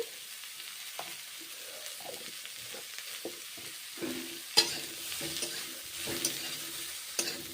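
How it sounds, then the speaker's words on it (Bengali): Cauliflower frying with salt and turmeric, a soft low sizzle broken by scattered clicks and scrapes of stirring in the pan, fairly quiet and close, with no talking. "নুন হলুদ দিয়েছি ভেজে নিচ্ছি"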